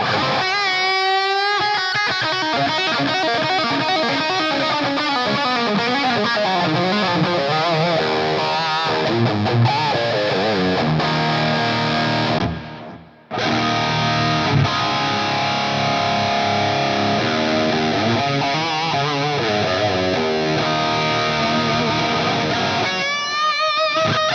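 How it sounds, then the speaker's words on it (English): Electric guitar notes ring out with washy plate reverb and trailing tape delay echoes, continuous and fairly loud, with a brief cut partway through. "I just kind of like these plate and tape delay and reverb settings."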